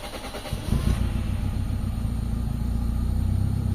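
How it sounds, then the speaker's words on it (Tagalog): A Toyota Corolla engine cranks and catches about two-thirds of a second in, then settles into a steady, close, even idle with a low rumble and no voices. "Yan, start tayo ng engine mga bossing."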